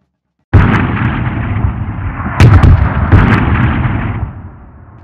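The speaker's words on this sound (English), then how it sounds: "As bullets flew and cannons roared." Animated cartoon battle: a sudden loud onset of booming cannon fire and gunfire bursts, with sharp cracks around the middle and a sustained rumble that fades toward the end.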